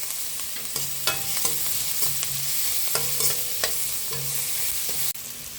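Ginger garlic paste stirred into onions frying in a pan, a constant sizzle broken by a run of distinct spatula scrapes and knocks against the metal, close and clear with no talking.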